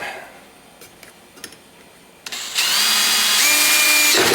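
A power drill bores into a Kawasaki KLT 200C motorcycle fuel tank, with a few light taps and clicks first, then the drill starting abruptly and whining loud and steady up close.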